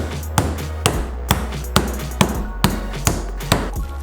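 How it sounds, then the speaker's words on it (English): Jagged side of a meat tenderizer pounding beef for Hawaiian-style jerky: about nine sharp, close thuds at a steady, slightly uneven rhythm, each a distinct impact over a low background hum. "Pound the beef using a meat tenderizer's jagged side."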